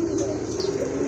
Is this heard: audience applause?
no